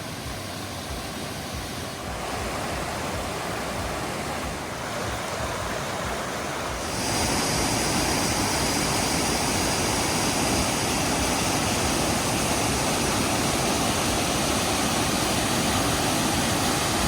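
Etiwanda Falls in Southern California, running full after heavy rain, gives a steady, loud roar of rushing water that swells louder partway through and continues alone with no voices.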